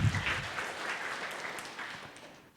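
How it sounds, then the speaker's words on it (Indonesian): A church congregation applauds during a worship service, with a dense, soft wash of clapping that tapers off gradually. "Yang mau berikan tepuk tangan meriah buat Tuhan kita."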